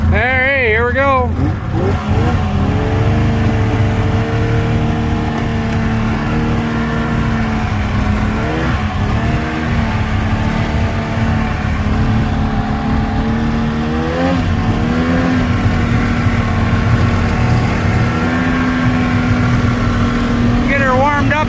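Snowmobile engine warming up, then revving with rising and falling pitch, loud and close throughout the clip.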